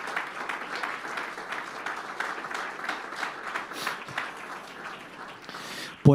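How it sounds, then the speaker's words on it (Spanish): Sustained applause from a church congregation praising the Lord during a service, a steady dense wash of many hands clapping for about six seconds before ending abruptly. "De ese aplauso de alabanza al Señor."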